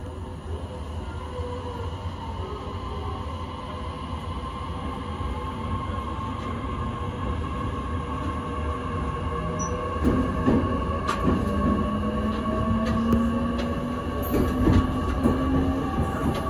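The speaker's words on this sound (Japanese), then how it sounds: "普通列車水戸行きが発車します" A JR E501 series local train on the Joban Line departs toward Mito, its low rolling rumble and motor whine rising steadily as it pulls away, with brief sharp squeals and clicks from the wheels later on, and no talk.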